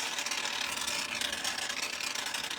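A steady, loud hiss of spray foam from an aerosol can, continuous for a few seconds with a slightly sputtering texture, filling a floral arrangement.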